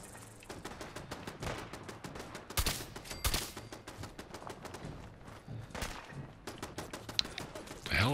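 Gunfire in the video game Fallout, rapid bursts of automatic shots with a few sharper, heavier blasts standing out, fairly quiet overall with no talk over it.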